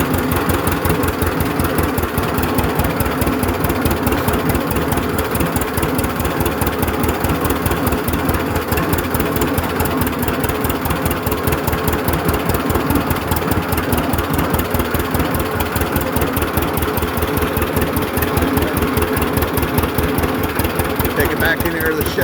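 A 1937 unstyled John Deere A tractor engine runs steadily in first gear on a cold day, a loud, continuous low chugging with a fast regular beat that holds for the whole stretch.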